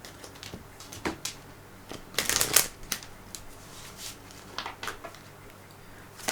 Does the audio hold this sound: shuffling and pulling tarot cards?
yes